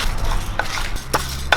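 Lentils, black pepper, coriander seeds, fennel and dried red chillies are dry-roasted in a pan, heard as a few close spatula scrapes and light clinks against the metal, with no oil sizzle.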